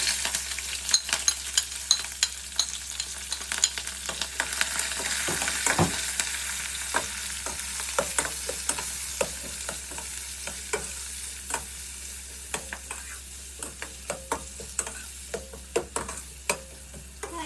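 Onion and green chilies fry in oil with sesame seeds, asafoetida and curry leaves, giving a continuous close sizzle broken by frequent sharp crackles and pops, with stirring throughout.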